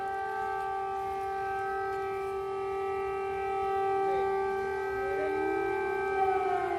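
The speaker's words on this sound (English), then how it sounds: "We have air raid sirens here right in Kiev." A wailing air raid siren in Kyiv drones steadily in the distance, its pitch slowly rising and falling, with no voices over it.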